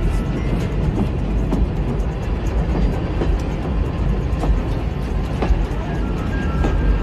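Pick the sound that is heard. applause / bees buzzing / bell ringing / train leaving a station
train leaving a station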